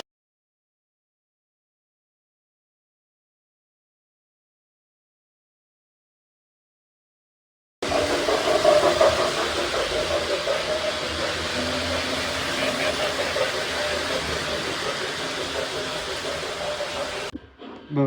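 A Lionel model train engine's Rail Sounds system gives off a steady, even hiss and rumble. It starts abruptly after a long silence, holds for about ten seconds, then cuts off, with no talking.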